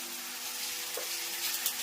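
Mustard seeds and cumin sizzle in hot oil as tempering for a radish and greens bhaji, a steady close crackling hiss that holds evenly throughout with no voices.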